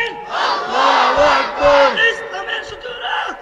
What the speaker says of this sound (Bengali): একসাথে বলবেন নারায়ে তাকবীর, একসাথে নারায়ে তাকবীর